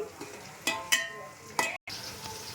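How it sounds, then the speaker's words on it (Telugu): Onions and mango pieces fry in hot oil for a chicken liver mango curry, giving a steady close sizzle with a few sharp stirring clatters and one brief dropout. "ఆయిల్లో బాగా ఫ్రై చేసుకోవాలి"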